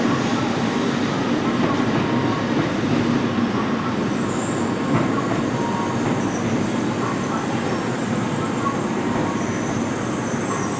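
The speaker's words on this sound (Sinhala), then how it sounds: "මේ තව ට්‍රේන් එකක් එනවා මේ වෙලාවේ" Japanese bullet train arriving at a station, a loud, steady rushing rumble of the train on the rails that fills the whole stretch with little change in level.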